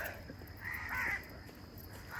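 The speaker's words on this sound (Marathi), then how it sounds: "कावळे" Crows caw a few times at a distance, faint harsh calls over a quiet outdoor background.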